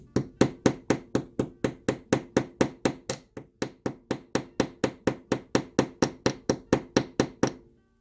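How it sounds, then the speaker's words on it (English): A ball peen hammer strikes wire in a fast, even rhythm, about thirty sharp taps, loud and close, stopping after a brief pause and a final run. "with this ball peen hammer we're going to be able to get a really nice texture"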